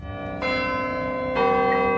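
Two deep strikes of a church bell about a second apart, each ringing out with a sustained, resonant hum that layers over the previous one.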